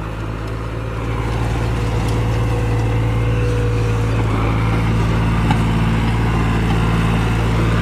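A New Holland 5510 Excel series 48-gear tractor pulls a National 7-foot super seeder through a field, its engine a steady, loud drone with a constant low hum throughout and no talk.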